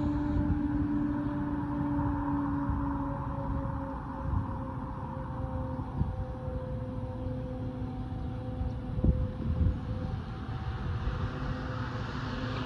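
A northbound Union Pacific boxcar freight train with Ferromex locomotives approaches at Dittmar Road in Austin, Texas, a steady low rumble and engine drone with a long sustained tone, growing gradually with no talk.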